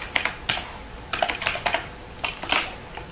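Keys on a computer keyboard clatter close by while code is entered, in short uneven bursts of quick clicks separated by brief pauses.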